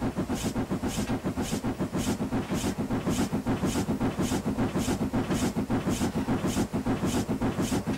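A Robinson O4 steam locomotive in Train Simulator 2015 on the Woodhead line: steady, evenly spaced exhaust chuffs with hissing steam over a continuous rolling rumble, moderately loud and with no speech.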